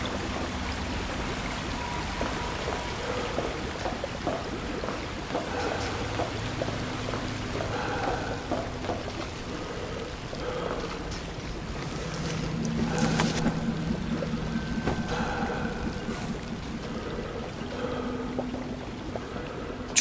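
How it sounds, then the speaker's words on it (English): In the video game We Happy Few, chemicals are flushed down a drain as a steady rushing, pouring flow of liquid with a hollow splashing wash. It holds a continuous, moderately loud level throughout and swells briefly partway through, with no voices. "This is where they flush the chemicals."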